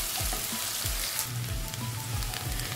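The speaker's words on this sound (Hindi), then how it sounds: "अब इसको 2 से 3 मिनट में इस तरह ही भुनेंगे जब तक ये ट्रांसपेरेंट नहीं हो जाता।" Onions sauté in a pan for a capsicum and potato dish, a dense, even sizzle close by, with soft rhythmic stirring strokes repeating every half second or so.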